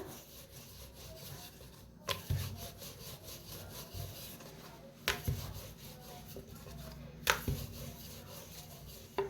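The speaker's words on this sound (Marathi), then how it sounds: "आता हिची चपाती लाटून घ्यायची आहे" A rolling pin rolls out dough into a flat chapati for egg paratha, giving steady soft rubbing and scraping strokes with a few sharper knocks on the board, close and moderately quiet.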